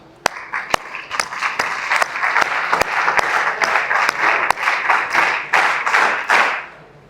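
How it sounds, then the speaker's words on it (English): An audience at an Indian Army SSB leadership session claps together: a few sharp isolated claps open it, then loud sustained applause builds and fades out near the end. "Everybody please clap. This is the right answer."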